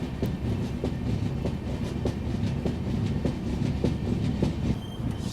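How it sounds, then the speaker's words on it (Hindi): Indian Railways express train in foggy weather running past with steady rumble and rhythmic wheel clatter over rail joints, loud and close, with no talk. "सामने से आ रही है न्यू दिल्ली राजेंद्र नगर संपूर्ण क्रांति।"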